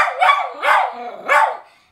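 A dog left alone at home barks and howls in three drawn-out, rising vocal bursts, loud and close, with no other sounds around them.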